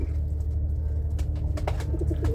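Soft, low pigeon cooing repeats over a steady background hum, with a few brief clicks and chirps near the end.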